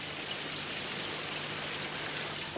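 Steady cartoon rain falls in a Moomins animated episode as a constant, even hiss of raindrops with no talking over it.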